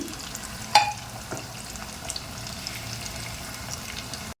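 Taro (arbi) pieces frying in oil in a home kitchen, a steady soft sizzle that runs throughout, with a sharp clink of a utensil near the start and a few faint stirring knocks.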